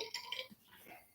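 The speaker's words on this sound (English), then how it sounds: "The burp was also part of the music." A single burp heard within a music track, a short low belch standing out briefly against a bright, busy musical backdrop.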